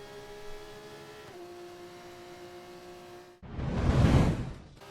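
A Formula 1 car in the F1 24 racing game screams past through the final corner, its high engine note swelling into a loud whoosh near the end after a steadier, fainter engine drone.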